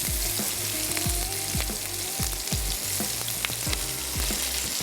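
Steamed chicken pan-frying until its outer layer turns crispy, a loud close hiss of hot oil with a low rumbling burner and irregular sputters and pops throughout, no voices.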